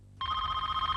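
Telephone in an office rings with a steady electronic trill, starting abruptly after a brief quiet moment and continuing loud and close without any talk.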